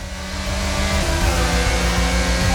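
An F1 car's engine from the F1 22 video game at the Mexican Grand Prix drones loudly and steadily, rising and revving slightly as it cruises after the race, with no talking.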